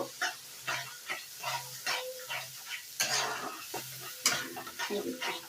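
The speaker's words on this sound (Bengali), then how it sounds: "টমেটো সস, টক দই, লঙ্কা, হলুদ, লবণ, জিরে গুঁড়ো, ধনে গুঁড়ো সবগুলোকে কিন্তু একসঙ্গে আমি কষিয়ে নেব" Tomato sauce, yogurt, chili, turmeric, salt and ground cumin and coriander are stirred together in a hot pan, giving rhythmic scraping strokes over a moist sizzle, close and moderately loud, with occasional sharper clanks of the spoon on the pan.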